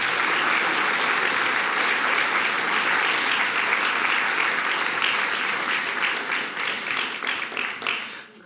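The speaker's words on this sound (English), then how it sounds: "Worth another round of applause." Sustained audience applause at a 95th birthday celebration, a dense, steady roar of many hands clapping that stays full and loud before thinning slightly toward the end.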